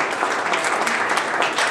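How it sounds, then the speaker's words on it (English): Audience at a sales conference comedy session claps for a comedian, a short burst of dense, steady applause heard close and alone. "Give her a big round of applause."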